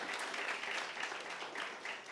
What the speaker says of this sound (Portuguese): Dê um aplauso bem forte a Jesus